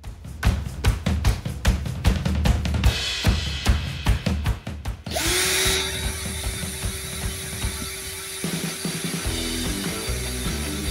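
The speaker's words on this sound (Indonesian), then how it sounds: "Kecepatan tanpa beban tertinggi pada gear mode 1 yang saya dapatkan sebesar 430 rpm." Kova 20V cordless impact drill running unloaded in gear mode 1, the low-speed setting: a loud, steady mechanical whir with rattling clicks in the first seconds, then a continuous motor drone with a faint tone that shifts near the end.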